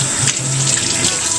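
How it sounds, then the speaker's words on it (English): A tap runs steadily into a sink during hand washing at home, giving a loud, close, continuous rush of water with a faint low hum under it. "I'm gonna wash my hands"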